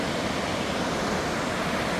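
Cascata do Moinho waterfall roars as a steady broadband rush of falling water, a constant full wash of sound without breaks or voices.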